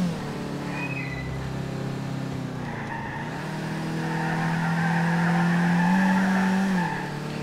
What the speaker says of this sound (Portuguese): E tome pneu queimado.